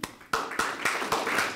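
An audience at a press conference claps for a councilwoman, a few hands striking in a steady, slightly uneven rhythm at moderate distance, with no voices over it.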